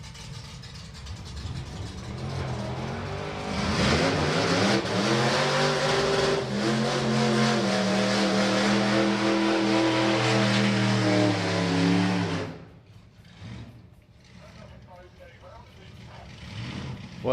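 A Chevy Corvette and an outrageous Ford pickup rev and launch in a drag race matchup, engines roaring loudly with rising tones for several seconds before cutting off, followed by quieter track ambience, with an announcer talking throughout.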